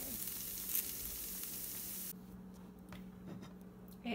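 Steady sizzling of food seasoned with salt, pepper and garlic powder frying in a pan, a continuous hiss that drops quieter midway, with a faint scrape or two.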